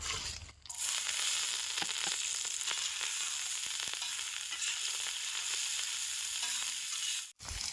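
Cabbage and carrot stir-fry on a hot griddle for chowmein. A bright, loud sizzle surges as the vegetables land, then holds steady with scraping stir strokes and brief dips in volume at the start and end.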